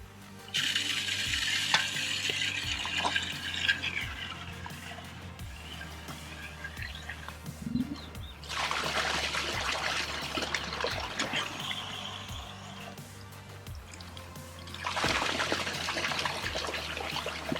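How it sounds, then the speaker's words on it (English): A pond skimmer pump set in the water and run briefly to flush it, giving a steady watery trickling and bubbling that swells in bursts, with small splashes and drips close by. "I'm going to set it in the water, and we're going to just run it just for a few seconds."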